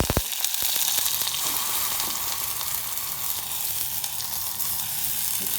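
Onion and red chili paste sautéing in a pan for a Malvani fish curry, a loud, dense sizzle that fills the whole stretch, close by, with a few clicks of stirring at the start.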